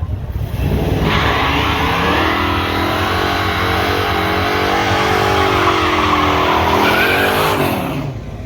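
Cars drag racing at Willow Springs in a street drag event, an engine roaring loud and sustained for several seconds as it rises in pitch through the gears, close and without talking.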